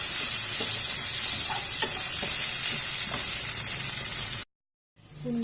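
Spices for soto sauté in a hot pan with a loud, continuous frying hiss and a few soft stirring scrapes, ending in a sudden cut to silence and a faint return of sound.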